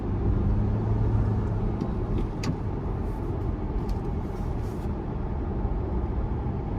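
A 2023 Ford Ranger Lariat Tremor with the 2.3-liter turbo four-cylinder drives along, a steady low engine drone mixed with road and wind noise from inside the cab, with a few faint clicks.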